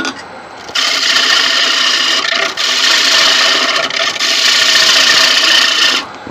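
Carbide tool cutting through a resin-and-wood blank on a woodturning lathe, a loud steady rasping scrape that starts after a quiet moment and runs continuously with a couple of brief dips.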